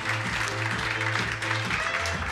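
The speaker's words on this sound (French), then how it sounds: "qu'on peut applaudir, s'il vous plaît" An audience applauds at a corporate client-testimonial event, a dense, steady wash of clapping filling the room, with a sustained tonal music bed underneath.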